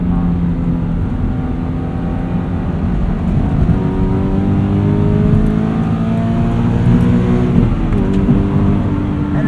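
Subaru BRZ flat engine with a catted UEL header and stock exhaust, heard from inside the cabin as it pulls steadily and revs up, with rising tones, loud and close, and no speech.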